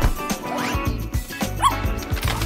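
A puppy yips and barks in short, high, excited bursts with small whimpering cries between them, close and fairly loud.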